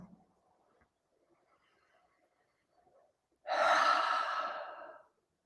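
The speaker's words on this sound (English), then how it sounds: "Breathing, inhaling, exhaling, breathing, inhaling, exhaling." One long, slow breath, drawn in and released audibly, stands alone and close after several seconds of near silence, with faint murmuring before it, during guided breathing practice.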